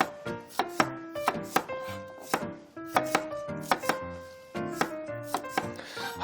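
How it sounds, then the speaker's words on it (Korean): Garlic cloves sliced with a knife on a cutting board, a quick run of crisp, close knife chops landing in steady clusters, alone without talk. "마늘을 좀 썰어야 되는데 이렇게 편 썰어 주시면 좋을 것 같아요"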